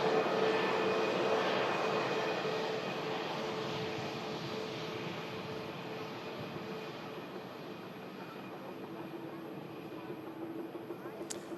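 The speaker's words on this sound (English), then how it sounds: "Dreamliner also taxiing out as well" A Boeing 787 Dreamliner airliner taxiing at Manchester Airport, its engines producing a broad steady roar that slowly fades, heard from a distance.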